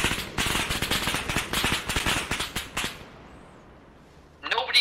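In the ARMA 3 video game, a tank's coaxial machine gun fires long rapid bursts, loud and steady for about three seconds before stopping, with a brief noisy hit near the end.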